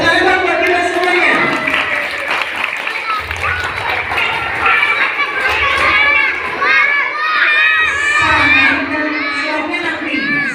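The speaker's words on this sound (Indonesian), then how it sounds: "Tepuk tangan buat kita semuanya" Loud, lively crowd of children shouting and cheering, with clapping mixed in, continuous and close, at an Isra' Mi'raj event.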